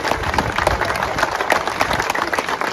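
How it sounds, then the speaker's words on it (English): An audience at a classic car awards ceremony applauds with dense, steady clapping that carries through the whole moment. "That deserves a round of applause in itself."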